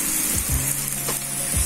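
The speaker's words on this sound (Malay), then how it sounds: "kita akan letak bawang cendawan butang ataupun cendawan shiitake dalam adunan kuali" Button or shiitake mushrooms sizzle in a hot wok, a steady frying hiss with a few soft stirring scrapes, close and alone with no talk.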